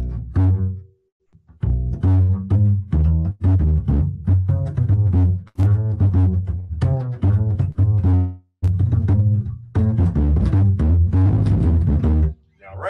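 A jazz melody in the style of Charlie Parker, running an altered scale and resolving on the third of the one chord, played as a busy, continuous line of quick notes over a walking low end, loud and upfront throughout.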